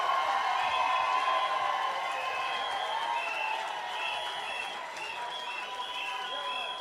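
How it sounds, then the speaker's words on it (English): Audience at a political town hall in a national cultural centre applauding a speaker, steady sustained clapping with crowd murmur and a voice speaking over it throughout. "A round of applause once again"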